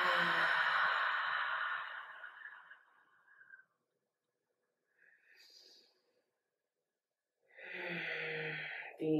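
Slow, deep exhale during a yoga balance pose, a long airy breath fading out over several seconds, then a faint pause and a fresh breath swelling back in near the end, close and unhurried with no talking.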